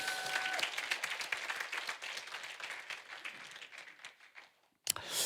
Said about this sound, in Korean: 우리 친구들이 다시 한번 격려의 박수 한번 쳐주세요.